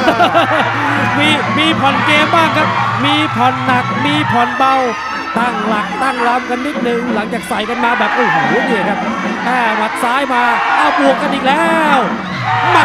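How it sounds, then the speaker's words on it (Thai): A crowd roars steadily at a Thai Fight League Muay Thai bout, a constant murmur of cheering beneath loud, rapid Thai commentary that runs over it the whole time. "บรรยากาศในบีทแอคทีฟตอนนี้นี่เสียงอื้อๆไปหมดครับ"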